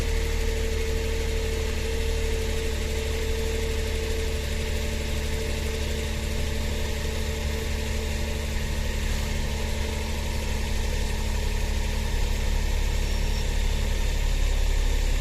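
A Suzuki Every's engine idles at around 1,500 RPM, a steady close rumble with a constant low throb and tonal hum that doesn't change through the whole stretch, with no voices over it.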